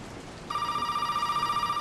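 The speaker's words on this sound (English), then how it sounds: "I hear a phone ringing." A telephone starts ringing inside the horror game Resident Evil 7, a steady electronic trill that begins abruptly and holds at moderate volume over a faint ambient hum.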